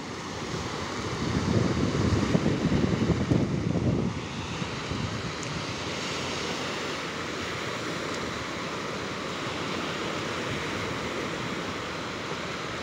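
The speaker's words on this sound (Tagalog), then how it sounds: "Meron po tayong hangin ngayon, kaya medyo may agas sa ating video." Wind buffets the microphone at a fish port, a loud, rough rush that is heaviest for a few seconds early on, then settles into a steady roar, with no voices.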